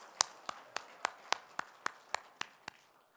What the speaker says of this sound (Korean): 찬양과 영광을 받으신 하나님께 우리 감사의 박수 한 번 더 크게 드릴까요?